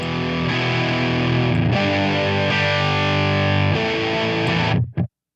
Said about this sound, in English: Kind of has a fuzzy kind of sound.